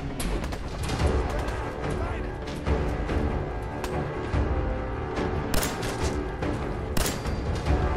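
Gunfire in Fallout 4: repeated sharp shots and bursts crack through the whole stretch, loud and close, with voices talking over them.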